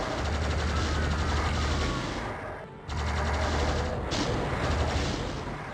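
Heavy gunfire roars in the video game Doom II on Ultra-Violence difficulty, dense and continuous with a deep rumble, dropping out briefly near the middle before the barrage picks up again.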